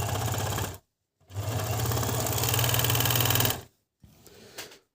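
An Agat DonLock54D-6 overlock sewing machine runs in two loud, close bursts of rapid mechanical stitching and cutting, separated by a short silence, followed by quieter clicking and handling.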